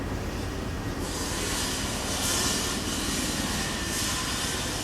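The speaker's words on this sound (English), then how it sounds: "They're always flying over. That was one of them Chinooks." A Chinook military helicopter flying over near a base produces a steady, moderately loud rotor and engine drone with a broad rumbling hiss that swells slightly midway, heard without any talking.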